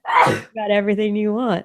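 A person gives one short, sharp sneeze, loud and close, and speech follows immediately after.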